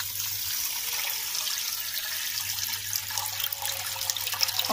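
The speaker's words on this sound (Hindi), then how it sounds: "और लगभग 2 लीटर पानी इसमें हम लोग ऐड करेंगे।" Water gushes steadily into a cooking pan holding sugar for syrup, a continuous close splashing pour lasting several seconds with no talk.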